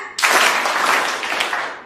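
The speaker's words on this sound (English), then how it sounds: "Nobody is listening carefully. One time clap." Seminar attendees clap together in a dense, short burst that starts abruptly and trails off over under two seconds, close and moderately loud, with no voices over it.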